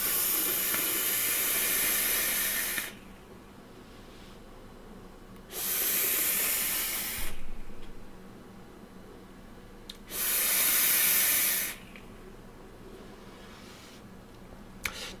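Air is drawn three times through a two-post RDA vape atomizer with only the bottom airflow open, each pull a loud, airy hiss lasting a few seconds, separated by quiet gaps.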